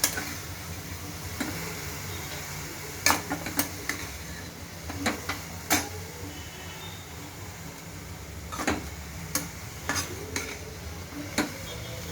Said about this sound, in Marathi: कोबी टाकल्यावर छान असं मिक्स करायचं.